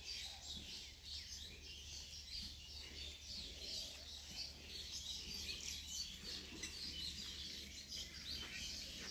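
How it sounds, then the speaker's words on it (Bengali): Small birds chirp and tweet continuously in trees on a foggy winter morning in rural Bengal, faint and somewhat distant, with overlapping calls over a quiet hum and no talking. "পাখির কিচিরমিচির শব্দ।"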